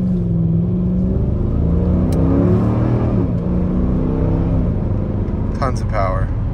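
A Mercedes SLK55 AMG accelerates hard, its engine note rising in pitch through the gears with a loud, close roar. A voice speaks briefly near the end over the engine.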